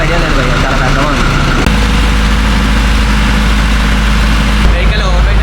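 A big ferry engine, carrying a full load of vehicles and motorcycles on the Konkan coast, rumbles loud and deep in a constant heavy drone, with voices talking over it.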